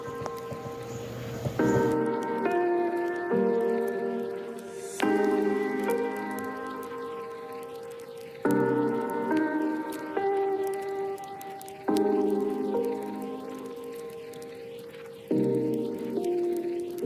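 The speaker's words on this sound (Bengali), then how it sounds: "কষানো হয়ে গেলে ভেজে রাখা আলুগুলো এর মধ্যে দিয়ে আরও কিছুক্ষণ নাড়িয়ে নিতে" Fried potatoes are stirred into a simmering curry for a Bengali feast, giving repeated wet squishy scrapes and clinks that come in bursts every few seconds, close and with no talking.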